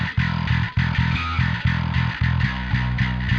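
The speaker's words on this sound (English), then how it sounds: "then through the distortion plugin to kind of round off some of that" A distorted bass guitar, recorded direct and run through a distortion plugin for metal production, plays a repeating riff of short, punchy notes in a steady rhythm, gritty and saturated, with no voices.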